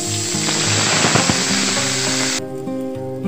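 Ginger paste, asafoetida and chili paste hitting hot oil, a loud, dense sizzle that hisses strongly and then drops away abruptly, with steady background music underneath.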